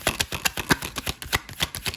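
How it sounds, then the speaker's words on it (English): Tarot cards being shuffled up close, a rapid, loud run of riffling snaps and flutters in a quick steady rhythm. "Sorry if the shuffling is a bit loud."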